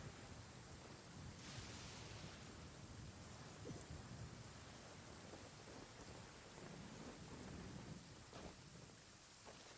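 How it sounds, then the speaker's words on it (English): Heavy rain pours steadily in Genshin Impact, a dense, loud hiss of downpour that fills the whole stretch, with low rumbling thunder rolling underneath and no voices. "Quite a downpour. Nothing will get done until it clears."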